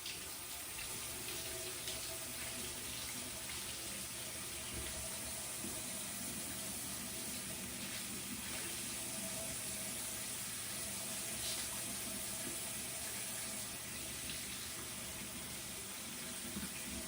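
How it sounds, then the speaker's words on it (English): Cold tap water runs steadily into a sink as onions are rinsed for bhindi masala, a continuous even gush alone with no talk. "And I will rinse my onions off"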